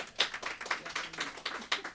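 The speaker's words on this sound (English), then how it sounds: "Of course, Mayor Carpenter, you can give him his big applause." A small group applauds Mayor Carpenter at a Ward 2 community meeting in George's Cafe, with faint, scattered handclaps in a loose, uneven rhythm over a quiet room.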